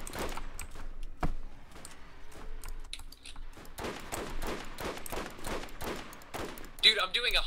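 Gunfire in the Borderlands shooter game as a sniper rifle fires on a Skag boss, repeated sharp shots and bursts close in the mix, with players talking and keyboard clicks over the combat.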